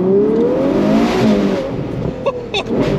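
Ferrari 812 GTS V12 convertible accelerating hard, a loud, close engine note rising in pitch with layered harmonics, then dipping briefly through gear changes, heard on its own without talk.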